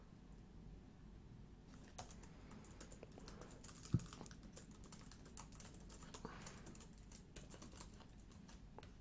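Fingers type on a computer keyboard in a steady run of soft, close clicks with one sharper keystroke, all quiet and without talk.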